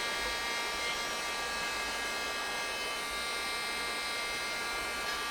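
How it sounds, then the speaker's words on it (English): A plastic welder hisses and whines steadily while welding across damage in a teak deck repair, a continuous close hot-air blowing with no pauses. "just weld across the edge of the damage"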